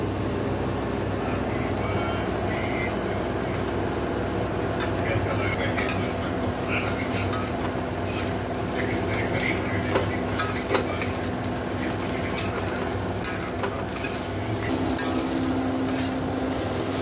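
Flattened rice tossed into a pan with lightly browned onion fries with a soft continuous sizzle while a spatula scrapes and stirs with scattered clinks, close and steady throughout.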